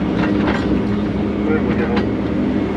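A Volvo excavator rocks back and forth on its tracks with dirt packed underneath, giving a steady, loud engine drone with rhythmic clanking and rattling throughout.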